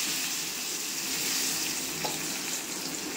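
Curry leaves drop into hot oil for chukkakura chutney and sizzle steadily, a continuous close hiss of frying that holds level throughout.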